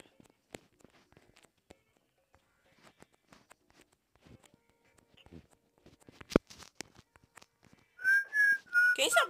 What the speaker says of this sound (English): Can you stop whistling?